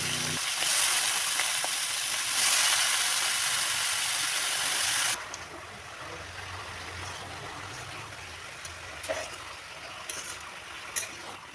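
Whole cumin, cinnamon, green cardamom and dried chillies crackle in hot oil, then grated ash gourd is added to the pan. A loud, dense sizzle runs for about five seconds and then drops to a softer, steady frying hiss with small pops.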